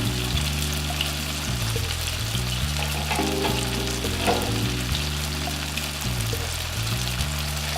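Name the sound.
pork dumplings frying in a pan as water boils away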